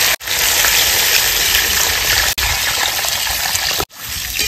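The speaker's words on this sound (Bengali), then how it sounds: "এবার দিয়ে দেবো জল।" Water gushing steadily into a pan of fried spice masala for a katla fish curry, a loud continuous pour with two brief breaks, alone without talk.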